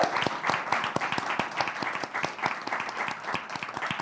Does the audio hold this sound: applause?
yes